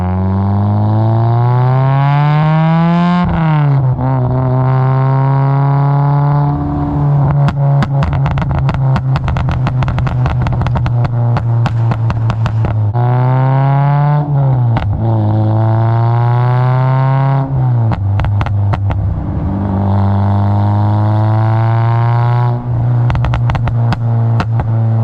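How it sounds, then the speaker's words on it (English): A Honda Civic-type car running a Hondata tune with retarded ignition, its exhaust revving in loud repeated pulls with rapid crackling burbles and pops as the revs drop, close and continuous with no talk. "it'll keep retarding the ignition, and you'll get a ton of little fast burbles, and that sounds pretty cool too"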